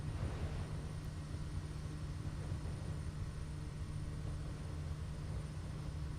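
A plane's engine drones in a steady, low, constant hum inside Microsoft Flight Simulator 2020, unchanging and moderately faint throughout, with no talking.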